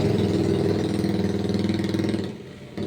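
A passing vehicle with a loud muffler rumbles close by, a heavy throbbing engine drone with a pulsing rhythm that fades toward the end as it moves away.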